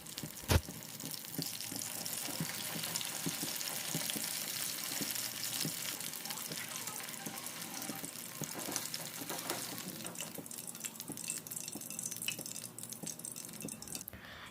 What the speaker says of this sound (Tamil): லோ ஃப்ளேமில் வச்சு நல்லா பொரிய விடுங்க